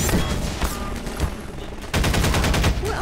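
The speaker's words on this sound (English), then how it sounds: "Who else is shooting? Okay, they're shooting." Gunfire in the video game Half-Life 2: loud, rapid bursts of shots, a burst at the start, a sparser stretch, then a dense sustained volley near the end.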